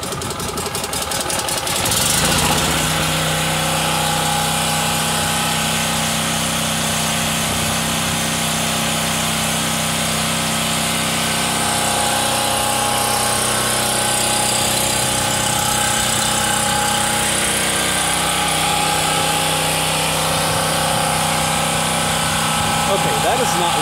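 A Champion portable generator engine runs steadily after a pull start, a loud continuous mechanical drone with a rattling buzz that carries on throughout, with someone talking over it.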